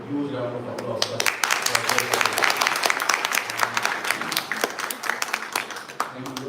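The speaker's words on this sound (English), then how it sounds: "give a huge round of applause" Lecture audience gives a steady round of applause, dense clapping sustained for several seconds with speech faintly underneath.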